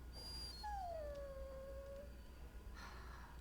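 A dog in the video game Dragon Age: Origins gives a single drawn-out whimpering howl that slides downward in pitch, fairly clear against quiet background hum, followed by a short muffled rustle.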